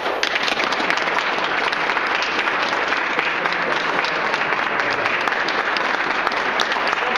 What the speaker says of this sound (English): Please join me in a big round of applause for Talia and Brooke.